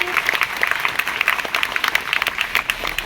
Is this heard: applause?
yes